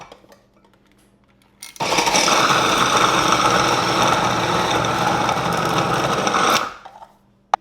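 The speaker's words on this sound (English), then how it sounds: "So we're going to go ahead and just shred this up in my little food processor here and get that done really fast." A small kitchen food processor shreds an ingredient for meatballs in Alfredo sauce, its motor kicking on suddenly and whirring loud and steady for about five seconds before cutting off, with quiet room tone before and after.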